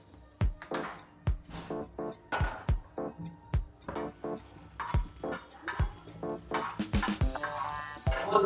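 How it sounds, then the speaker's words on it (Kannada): Green chillies frying in oil in a pan on the stove at medium flame, with repeated scraping and clinking of a spatula over a soft, steady sizzle; close and fairly quiet. "ಒಂದು ಹೆಂಚಿಟ್ಕೊಂಡು ಎಲ್ಲ ಫ್ರೈ ಮಾಡ್ಕೋಬೇಕು. ಸ್ಟವ್ನ ಆನ್ ಮಾಡಿಕೊಂಡು ಹುರ್ಕೋತೀನಿ."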